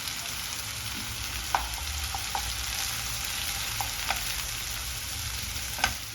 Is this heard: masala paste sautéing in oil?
yes